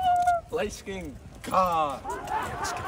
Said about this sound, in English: look at the rat. Oh, that's a cat.